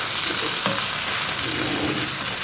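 Rice is tipped into hot oil in a pan and stirred, giving a loud, steady sizzle and frying hiss close up, with a light scrape of stirring and no voices.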